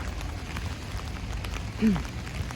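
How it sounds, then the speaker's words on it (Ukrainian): Light, steady rain falls on a town street in Giżycko, Poland, a soft continuous hiss with a brief louder rustle near the end and no talking. "Дощик спокійний такий йде."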